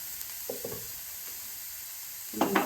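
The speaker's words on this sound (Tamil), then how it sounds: "வெங்காயமும் பூண்டு எண்ணெய் போடும்." Chopped onion and garlic fry in hot oil in a pan for a vegetable momo filling, giving a steady close sizzling hiss, with a few soft stirring scrapes early on and a louder burst of stirring near the end.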